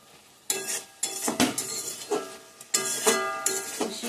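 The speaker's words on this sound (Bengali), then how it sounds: "তো সর্ষের পেস্টটা দিয়ে দিচ্ছি বন্ধুরা, একটু মাখা মাখা করবো।" Mustard paste being stirred into cooking vegetables in a pan, with irregular scraping strokes and light clinks of a spoon against metal, moderately loud and close, over a faint sizzle.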